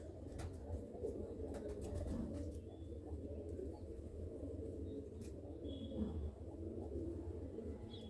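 Racing pigeons coo softly in a home loft, low murmuring calls over a steady background hum, with occasional faint chirps.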